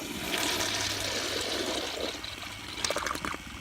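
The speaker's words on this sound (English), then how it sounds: "But here's a full flush, or pressure turned all the way up." An American Standard Allbrook toilet on a full flush with pressure turned all the way up, a loud steady rush of water that ends in a gurgling siphon, close and alone.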